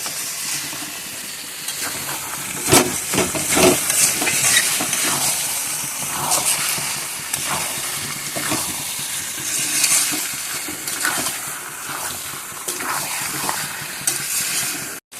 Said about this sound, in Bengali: মিট মশলা দিয়ে খুব ভালো করে কষাই।